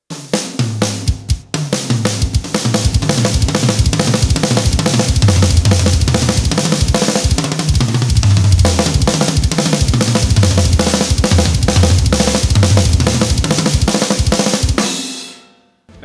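A six-note linear drum fill played in no particular order across the toms on a drum kit, rapid repeated strikes with a driving groove for most of the length, loud and close, fading out near the end.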